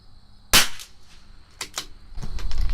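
A single sharp crack from a CZ 457 rifle firing Eley Match ammunition, close and loud, followed by metallic clicks and rustling as the bolt is worked.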